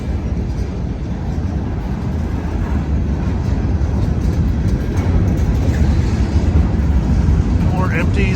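A long freight train of empty cars rolls out of a tunnel, a loud continuous low rumble of wheels on rail that holds steady throughout, with a faint squeal near the end.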